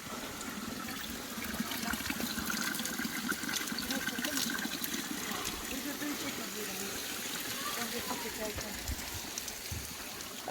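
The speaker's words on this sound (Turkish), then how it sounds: "Bu su her zaman akıyor arkadaşlar 7-24 saat." Fresh spring water on a mountainside flowing continuously in a steady splashing stream, fairly close, with a voice talking over it.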